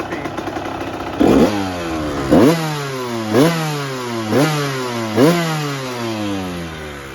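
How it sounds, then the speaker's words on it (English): A 1998 Honda CR125R motorcycle engine fitted with new jets runs at a steady idle, broken by five sharp throttle blips that rise and fall roughly once a second, close and loud, with no talking. "But it's idling with the new jets and it's more snappy."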